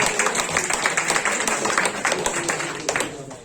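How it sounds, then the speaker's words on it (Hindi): Audience applause at an award or recognition event in Sharjah for a star agent called to the stage, dense steady clapping from a sizable crowd, close and lively, tapering off slightly at the end. "प्लीज ताली बजाए ताहिर अली आजम"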